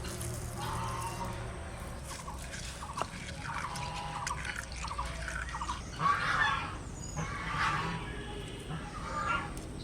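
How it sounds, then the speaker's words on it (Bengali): Coriander leaves are washed in water, giving soft splashing and dripping sounds close by, with bird calls in the background. "ধুনে এটা ধুয়ে নেবো একটু ভালো করে"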